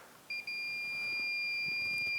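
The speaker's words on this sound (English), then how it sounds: "If I'm right, it should beep at us." A thin, steady electronic beep from a Yamaha YFM700 Grizzly ATV start switch circuit starts with a couple of quick stutters, then holds as one continuous high tone, fairly faint against quiet room noise.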